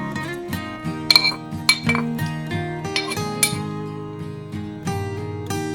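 A spoon clinks against the pot while mango pulissery curry is stirred, giving several bright metallic taps at irregular intervals over steady background music.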